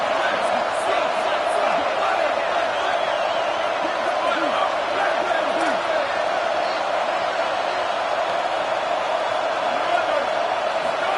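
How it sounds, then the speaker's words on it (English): A stadium crowd at an Ohio State vs Tennessee playoff football game keeps up a broad, steady roar of cheering, loud and continuous under a commentator's voice. "And the crowd coming to life here, trying to help this defense down in the red zone."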